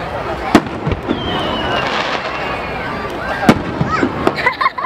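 Fireworks crack and boom at irregular intervals, with whistling launches in between, while people talk nearby.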